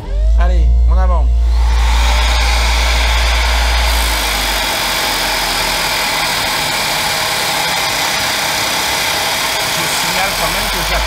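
A Parkside PTSG 140 B2 lapidary sander runs hard under load, giving a loud, steady motor drone with a broad grinding hiss that holds for about nine seconds after a brief voice at the start.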